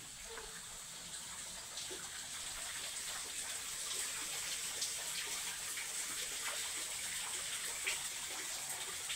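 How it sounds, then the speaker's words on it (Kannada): Steady water spring trickling and splashing at a hillside temple in Gokak, a continuous bright gush with faint drips, fairly close and alone with no talk. "ಈ ದೇವಸ್ಥಾನದಲ್ಲಿ ಈ ನೀರಿನ ಜರಿ ಇದೆ"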